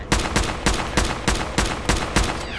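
Rapid gunfire from a weapon in the video game Fallout 4: Nuka World, about eight loud, evenly spaced shots over a few seconds, close and punchy with no talk.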